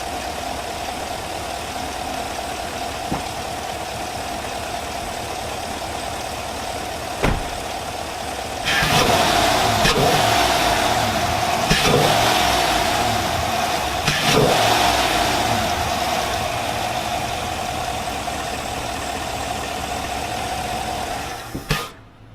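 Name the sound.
2020 Sierra AT4 6.2L V8 engine idling and revving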